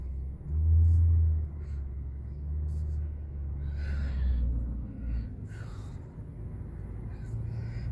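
A car in icy weather in the Austin, Texas area creeps into a driveway, its engine rumbling low and steady with a brief surge early on, while a person breathes and speaks faintly nearby.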